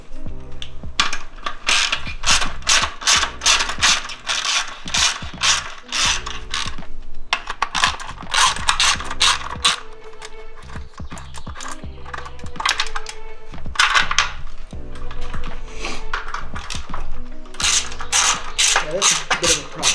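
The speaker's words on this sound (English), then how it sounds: "Here's my big wrench." A ratchet wrench clicks rapidly in repeated bursts while working on a 2019 Yamaha R1 track motorcycle, close and loud, with short pauses between strokes and occasional metallic clanks.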